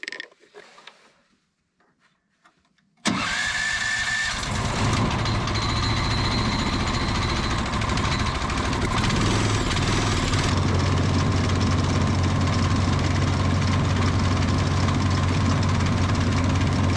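A gear-changing engine with its air filter removed starts up abruptly after a quiet moment. It settles into a loud, steady, rattling idle with a low hum as it warms up, and runs close and continuous.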